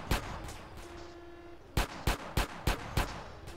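Gunshots in GTA San Andreas: two early sharp reports, a brief lull, then five evenly spaced loud shots in quick succession, each a crisp, punchy crack.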